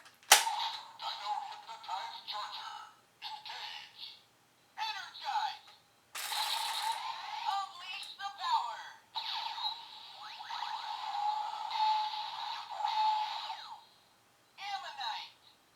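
Power Rangers Gurummonite ammonite zord toy charger used with its toy gun, firing loud, close electronic sound effects in repeated bursts separated by brief silences.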